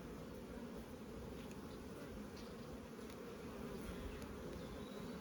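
Buckfast honeybees in an open hive give off a continuous, even buzzing drone, steady and fairly quiet, with no talking over it.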